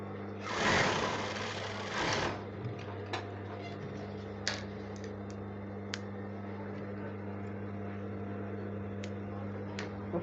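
A sewing machine stitches underbust corset panels in a short buzzing burst of about two seconds, followed by quiet room hum and a few faint clicks.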